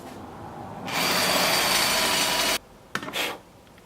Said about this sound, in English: grab a 6mm drill bit, and all we're going to do is lightly drill out these holes